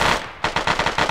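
Automatic gunfire in the video game Arma, a rapid close burst of about eight loud evenly spaced shots after a brief pause.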